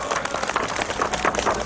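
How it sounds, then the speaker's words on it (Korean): Crowd applause at an outdoor national farmers' rally in 2023, a dense, steady wash of many hands clapping at once, sustained and fairly loud without clear breaks. "큰 박수 부탁드리겠습니다"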